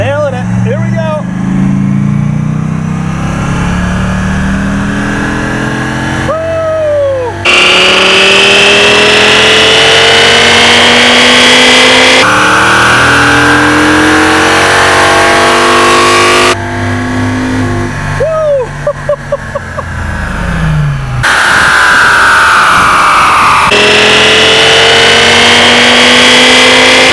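Dodge Viper V10 engine on a chassis dyno, revving hard at full throttle with rising and falling pitch sweeps, loud and close across a series of cut-together runs, with voices over parts of it.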